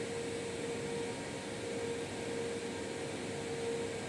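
Mechanized Lincoln Hyperfill twin-wire MIG welding runs on a rotating pipe under a stationary torch, giving a constant, even hiss and hum with a faint steady tone that never pauses.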